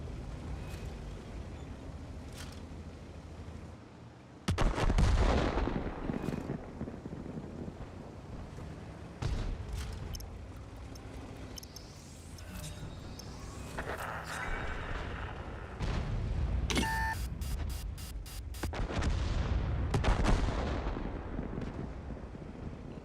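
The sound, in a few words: airstrike explosions and artillery fire in a front-line video game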